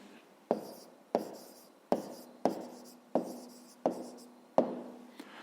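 A pen writes an answer into a school notebook during a fifth-grade maths exercise, making seven short scratchy strokes at a steady pace, each opening with a sharp attack and trailing off, close and quiet with no talking.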